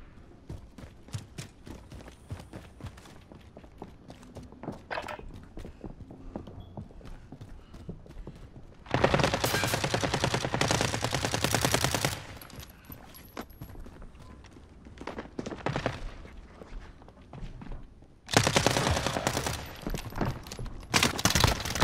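Heavy bursts of video game gunfire come in two long, loud barrages in the second half, with sharper isolated shots and quieter rattling in between.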